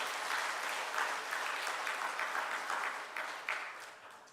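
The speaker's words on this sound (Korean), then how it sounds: "우리 축하와 환영의 박수 하겠습니다" A church congregation claps during a Sunday worship service to welcome new members, moderate and steady at first, then thinning and fading with a few louder isolated claps near the end.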